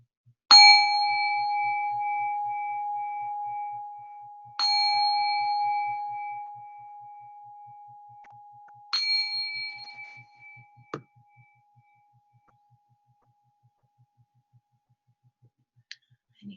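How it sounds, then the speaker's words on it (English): A meditation bell struck three times at roughly four-second intervals, each clear ring sustaining and decaying slowly, followed by a softer brief tap, closing a group sitting in a quiet room. "I'm going to go ahead and ring the bell to conclude our sitting tonight"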